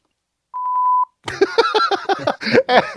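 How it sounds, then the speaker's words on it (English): A single steady electronic beep sounds for about half a second in quiet, then a person starts talking right after it. "Is that a good beep or is that a bad beep?"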